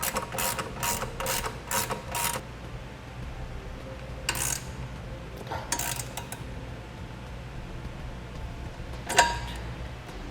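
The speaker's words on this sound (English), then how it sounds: "And now we can snug up these bolts." A hand ratchet clicks in several quick bursts while side step mounting bolts are snugged up on a 2001 Dodge Ram pickup, followed by a couple of shorter rattles and a sharp final click, close and moderately loud.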